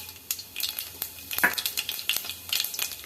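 Mustard seeds spluttering in hot oil in a pan, with irregular sharp crackles and pops of varying loudness over a low sizzle, close and with no voices.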